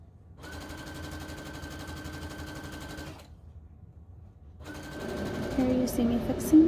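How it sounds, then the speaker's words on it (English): A sewing machine stitches tulle and ribbon in two steady whirring runs broken by a short pause, close and fairly loud, with a voice talking faintly over the second run. "you're going to stitch forward, back stitch, and stitch all the way down the long end of your tulle"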